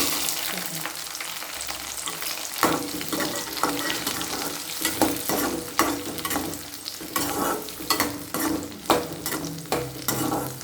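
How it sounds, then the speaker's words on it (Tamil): Garlic fries in oil in a pan for an okra tamarind curry: a continuous crackling sizzle punctuated by frequent sharp spatula scrapes and knocks, close and fairly loud, with no voices. "உள்ளியும் அதே போல் நல்லா வதங்கணும்"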